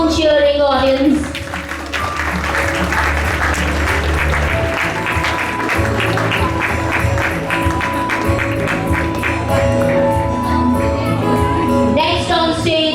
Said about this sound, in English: Keep on cheering, audience.